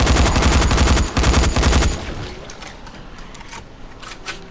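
Rapid automatic gunfire from the Dying Light game, a loud dense burst for about two seconds that cuts off into quieter ambience with a few faint clicks.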